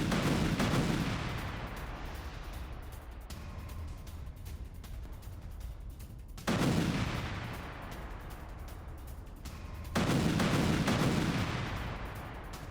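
Repeated heavy blasts from a strike on a Hamas base, three big booming explosions spaced several seconds apart, each trailing into a long rumbling decay with scattered crackling gunfire, heard from a distance.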